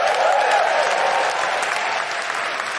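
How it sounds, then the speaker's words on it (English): Live comedy podcast audience at a charity show clapping steadily and loudly, a dense sustained wash of applause that holds throughout and eases slightly toward the end. "you're only applauding yourselves"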